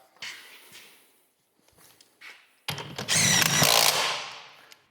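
A power tool tightens a Loctite-treated part back into a track during an annual track service, with a loud, steady whir of about a second and a half after a few short softer bursts.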